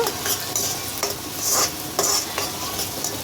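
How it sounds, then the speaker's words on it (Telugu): Onions and green chillies fry in a pan, a steady sizzle broken by stirring scrapes at a regular pace, close and fairly loud. "ఉల్లిపాయ పచ్చిమిర్చి ముక్కలు తీసుకున్నాను ఇవి బ్రౌన్ కలర్లో వచ్చే వరకు ఫ్రై చేసుకుంటానండి"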